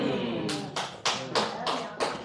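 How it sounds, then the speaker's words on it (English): Someone in a church audience at a Sunday service claps about six times in a fairly even rhythm. The claps sound close and crisp, with a voice faintly present underneath. "Whoever just clapped, thank you."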